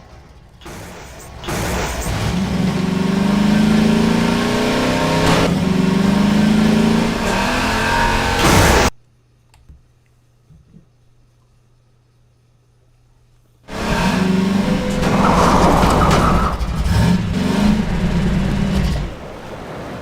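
A powerful dune buggy engine in Half-Life 2 revs and roars loudly, cuts out to near silence for several seconds, then surges back with aggressive revving.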